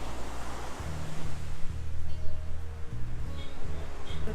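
Ocean waves washing onto a beach, a steady loud roar of surf with wind buffeting the microphone and low rumbling throughout.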